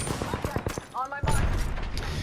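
Gunfire in the video game Apex Legends, with rapid bursts of sharp shots, a brief electronic warble, then denser firing, loud and close, with talk over parts of it.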